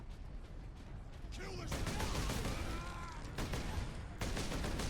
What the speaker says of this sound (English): We'll go and pop them off with the regular bolter there.